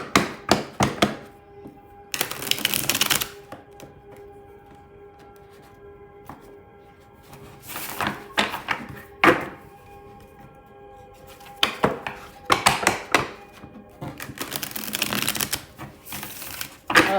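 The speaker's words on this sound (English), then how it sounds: "these cards are getting good now that they've been shuffled a little bit" Tarot cards shuffled by hand, several bursts of crisp riffling and snapping card noise, close and fairly loud, separated by quiet pauses with no talking.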